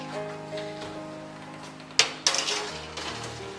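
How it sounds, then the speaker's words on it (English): A baking dish of ginger tofu set into a home oven: a sharp metallic clink followed by a second clatter and rattling of the rack, faint and close, with a low hum beforehand and no talk. "So we're going to put this in our oven."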